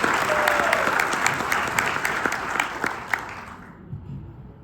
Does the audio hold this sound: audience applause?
yes